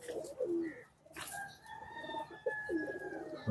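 A pigeon in a loft coos in soft, repeated low calls, close by, with a brief rustle in the middle and no talking.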